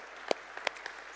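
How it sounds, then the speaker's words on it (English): A few scattered hand claps from a small audience at the Global Seaweed Coalition annual meeting in Paris, sparse and moderately close, fading quickly rather than building into full applause. "Another round of applause, please, for UN Global Compact."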